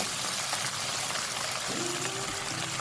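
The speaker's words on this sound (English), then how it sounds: "Let's add a little bit of water to help the beans cook." Water pours steadily into a pan of beans cooking for an Indian three-vegetable stir fry, a continuous close trickle and splash throughout.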